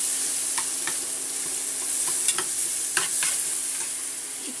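A spiced paste mixture for masala mirchi vada fries in a pan, with a continuous loud sizzle broken by scattered spoon scrapes and stirring taps; no talking.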